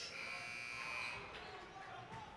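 A basketball shot clock buzzer sounds in an arena during a CB Highlanders versus Moncton Miracles game, a sustained electronic drone lasting about a second, heard beneath a commentator's voice and crowd noise.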